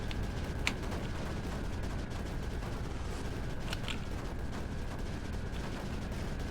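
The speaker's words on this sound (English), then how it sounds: "Do you love the sound of all those hectic bombs and explosions going off?" A dense wash of bombs and explosions from the video game Creeper World 4 pops and crackles continuously at a moderate level, with scattered sharper bursts standing out.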